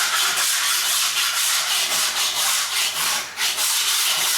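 Steady, close rasping of a hand scraper dragged across a wooden floor, a continuous broadband scrape with faint repeated pull strokes and no talking.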